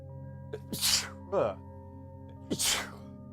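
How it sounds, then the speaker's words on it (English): A person sneezes twice, each with a sharp intake of breath before the burst, close and fairly quiet against a steady low hum. "one second, I gotta sneeze"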